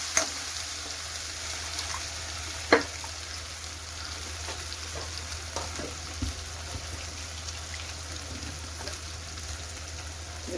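Masala sizzles steadily in a pan as it is stirred for paneer butter masala, a continuous hissing fry with occasional soft scrapes and knocks from the spoon, close by.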